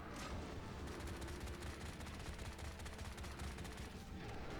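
Sustained assault rifle fire in the video game Bright Memory, a dense continuous rattle of rapid shots with a booming low end, loud and unbroken throughout.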